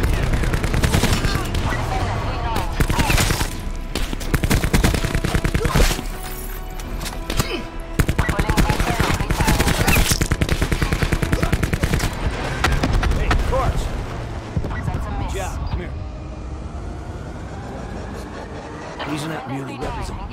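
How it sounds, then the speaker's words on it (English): Sustained strafing-run gunfire from Call of Duty Black Ops 4, with dense rapid automatic bursts and booming impacts running almost continuously and loudly. Voices talk over the barrage, and the firing thins out toward the end. "Strafing again."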